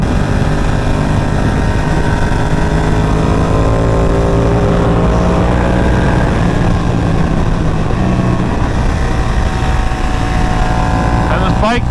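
A Ducati Panigale V2 sport motorcycle is ridden fast up a canyon road on wet pavement. Its engine drones loud and continuous close to the rider as the revs climb and shift through the gears, under a steady rush of wind.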